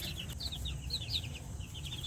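High, thin peeping of Sweater gamefowl chicks at night in quick repeated chirps over a low background rumble, fairly faint and continuous.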